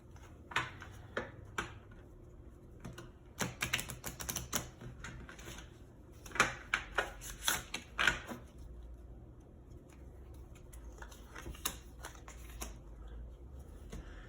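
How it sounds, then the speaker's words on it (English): Tarot cards are handled and pulled from the deck, making soft close-up flicks, riffles and taps that come in bursts with quiet gaps between them. "Let me pull you your court cards."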